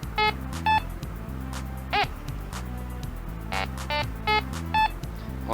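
A Fisher F44 metal detector giving short, sharp high-pitched beeps, several of them spaced out over a steady low multi-tone hum.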